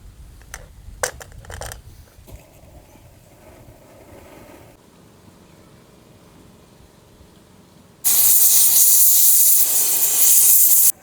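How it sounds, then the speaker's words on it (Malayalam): A pressure cooker cooking beef curry lets out a loud, sustained steam hiss for about three seconds, after a stretch of quiet kitchen clinks and faint background sound. "അങ്ങനെ കുക്കറിനെ 6 വിസിൽ വന്നിട്ടുണ്ട് കേട്ടോ."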